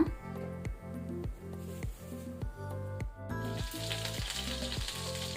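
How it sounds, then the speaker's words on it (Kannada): A tablespoon of butter melting into cooking oil in a pan, a bright steady sizzle under a run of regular knocking beats that keep time across the clip, with no talk. "1 ಟೇಬಲ್ ಸ್ಪೂನ್ ಬಟರ್ ಬೆಣ್ಣೆ ಹಾಕೋಣ."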